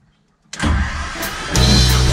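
A T-25 tractor engine cranks and catches abruptly after silence, settling into a loud, steady diesel idle that rises in intensity about a second later, close up with no talking.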